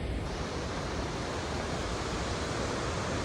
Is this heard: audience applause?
no